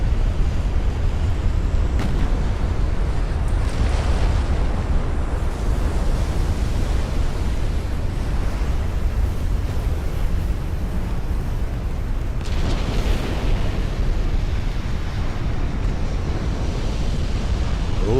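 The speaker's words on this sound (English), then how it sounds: "Somebody just pumped a HE shell through her barbette." Warship in Ultimate Admiral: Dreadnoughts blowing up after a high-explosive shell strikes her barbette: a loud, sustained roaring rumble of explosion and debris that hardly varies, with a couple of fresh surges, and no voices.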